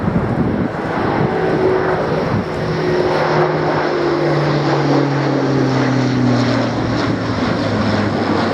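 An Airbus A400M turboprop military transport flies past with a loud, steady propeller drone, its engine tones sliding gradually downward as it passes over an airshow crowd.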